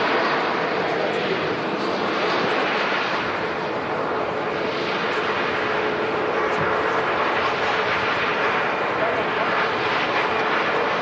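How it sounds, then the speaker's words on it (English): A Pegasus Airbus A320neo airliner on its landing rollout at Manchester Airport, heard as a continuous, fairly loud rushing engine roar with a faint steady tone, unbroken throughout. "Pegasus A320 Neo here, just arriving. Quite a quiet rollout from the Neo."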